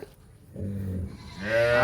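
Dairy cows low in the background on a cattle farm, a muffled moo followed by a louder, higher call near the end, with farmyard ambience.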